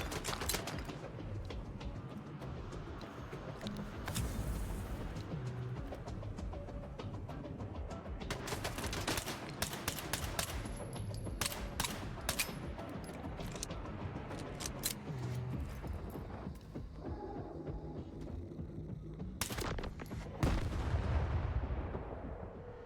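A weak gun in the video game STALKER 2 fires in bursts of sharp cracking shots, some single and some rapid, loud and close over a busy layer of combat noise. The volume swells toward the end.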